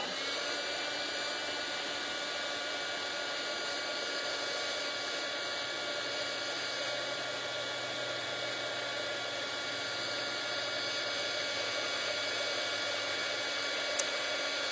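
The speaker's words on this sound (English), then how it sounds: "So I'm going to use the heat tool now. So mind the noise." A heat embossing tool for card making blows hot air in a steady, loud, whooshing roar that runs the whole time without a break.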